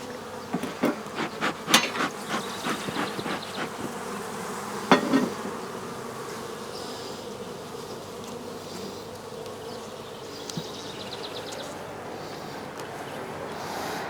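Honeybees hum steadily throughout a second weekly hive inspection in Wisconsin, a close, dense buzz with a few sharp taps and knocks early on and no one speaking.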